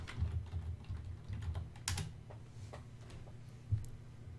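Faint, close keystrokes on a computer keyboard as a C# script name is typed for a video game project, a quick irregular patter of soft clicks over a low room hum, with no speech.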